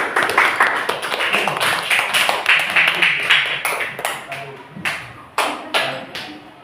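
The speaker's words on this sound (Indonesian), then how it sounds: "Tepuk tangan untuk Mbak Asmi." Classroom clapping for a student, a burst of sharp hand claps that thins out into a few separate loud claps near the end, with faint voices underneath.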